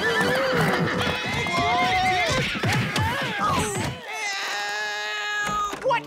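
Several horses ridden by knights neigh and whinny loudly and repeatedly over clattering hooves, then a lone drawn-out whinny trails off.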